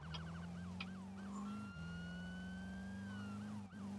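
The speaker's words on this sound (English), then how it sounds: "I hear the sirens again" A wailing electronic police siren in Roblox ERLC with yelping pitch sweeps, then a long rising wail over a steady low engine hum, fairly faint and continuous.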